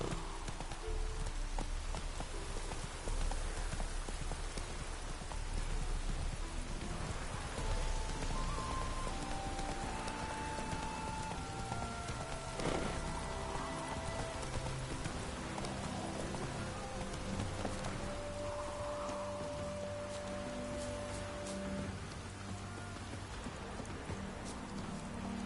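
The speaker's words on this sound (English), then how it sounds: "Rain doesn't bother" Steady rain falls for the whole stretch, a dense, continuous patter with scattered knocking and clopping sounds layered over it and no clear speech.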